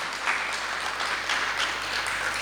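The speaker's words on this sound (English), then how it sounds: "give a big round of applause to Sydney Bangla Women's Network" Audience at a job fair and career summit gives a steady round of applause, moderately distant and even, with no talking over it.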